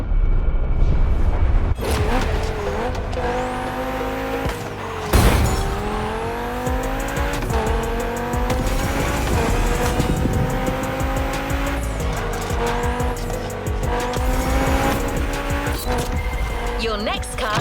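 Race cars in The Crew Motorfest video game roar along a frantic coast-to-countryside run with a Californian feel, engines rising and shifting through gears, tires squealing and occasional thuds, loud and continuous.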